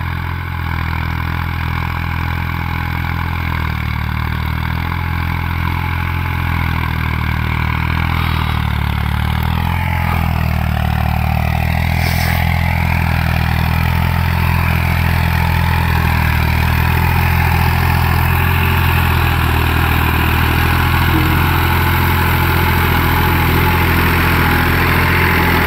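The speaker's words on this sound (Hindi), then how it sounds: "ट्रैक्टर बहुत ज़्यादा दब रहा है" A tractor driving a rotavator through a wet field, the engine labouring under heavy load with a loud, continuous low drone and a slight pitch sag midway, alone and close.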